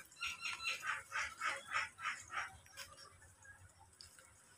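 Cemani chickens on a farm giving a rhythmic series of about seven clucks, faint and somewhat distant, then trailing off into quieter background.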